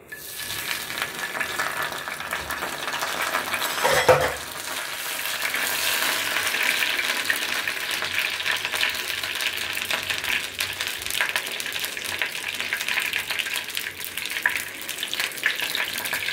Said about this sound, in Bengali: কড়াইয়ে তেল দিয়ে দিয়েছি। ফোড়নের জন্য দিয়ে দিচ্ছি তেজপাতা আর জিরে।